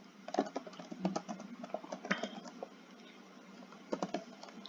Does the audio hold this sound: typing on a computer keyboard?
yes